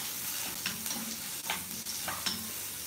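Onion and curry leaves fry in a pan, giving a steady close sizzle broken by a few short stirring scrapes.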